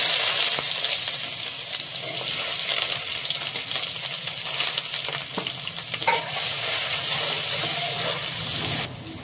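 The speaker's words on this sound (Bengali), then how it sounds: "আর দিয়ে দেবো 2টো তেজপাতা। এবার দিয়ে দেবো কুচনো পেঁয়াজ।" Chopped onions fry in hot oil with bay leaves, cardamom, cloves and cinnamon, giving a steady close sizzle broken by scraping stirs throughout, with no talk.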